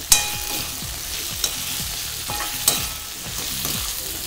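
Potatoes for cumin-spiced jeera aloo are stirred with turmeric in a frying pan, a scraping stroke roughly every second over a steady sizzle, with a couple of sharp clinks along the way.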